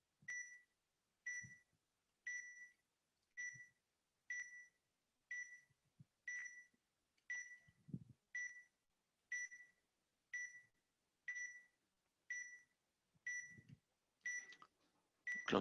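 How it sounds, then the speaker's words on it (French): A TAMAT PTI lone-worker safety device sounds its pre-alarm, a steady series of short two-tone electronic beeps at roughly one per second, about fifteen in a row, clear and alone with faint background handling. "Donc là, on est toujours en temps de préalarme"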